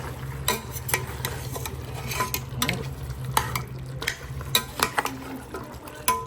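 Seasoned beef for stew, with thyme, rosemary, garlic and black pepper, cooks in a pot with a soft sizzle while a utensil stirs and clinks against the metal in irregular close taps, and no one speaks.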